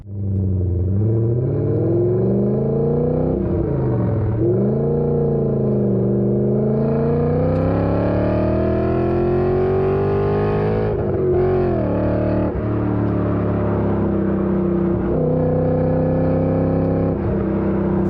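A loud BMW E39 M5 4.9-litre naturally aspirated V8 revs continuously, its pitch climbing and falling through repeated sweeps, then settling into a steady high wail.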